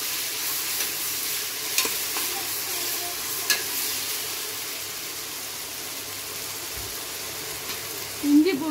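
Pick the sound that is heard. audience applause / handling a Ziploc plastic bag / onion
onion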